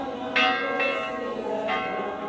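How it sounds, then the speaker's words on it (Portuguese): A church bell rings out for a Corpus Christi procession in Catholic celebration, three resonant strokes spaced about a second apart, each ringing on and overlapping the next. "O sino anuncia que é festa na Igreja Católica."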